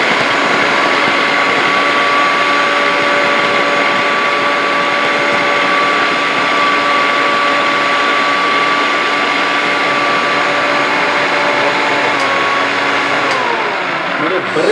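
Mixer grinder running at full speed, chopping whole onions: a loud, steady motor whine with a constant high hum that holds for many seconds, then shifts pitch and slows near the end.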